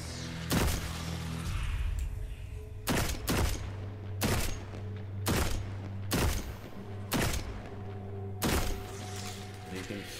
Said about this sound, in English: You can literally hear the crack of the gun.